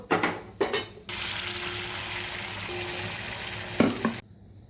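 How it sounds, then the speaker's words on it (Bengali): Papaya fritters (bora) deep-frying in hot oil, a loud, dense, steady sizzle that starts abruptly after a couple of brief clatters and bursts, then cuts off sharply near the end, with no voices. "এরকমভাবে সব কটা বড়াই ভেজে নেব।"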